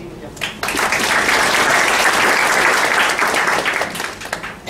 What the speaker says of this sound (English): You have a big round of applause.